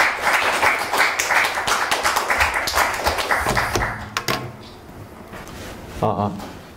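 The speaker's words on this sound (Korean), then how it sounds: "다시 한번 큰 박수 부탁드리겠습니다." Audience at a youth seminar applauding a Yonsei University student presenter, a dense burst of clapping for about four seconds that fades out, followed by a few knocks and a short stretch of speech.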